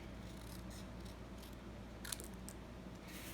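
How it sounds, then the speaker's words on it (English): A single brief snip of scissors cutting a paper lime shape in half for a card craft, close and quiet over faint steady background hiss. "you're just going to take your limes and cut one just right in half."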